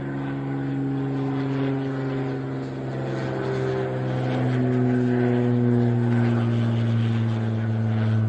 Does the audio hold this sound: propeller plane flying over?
yes